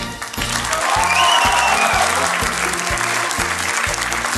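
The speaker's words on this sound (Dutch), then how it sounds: "Geef hem een applaus." A student audience applauds after a contestant's introduction at a student contest in Maastricht, steady dense clapping from a close crowd over several seconds.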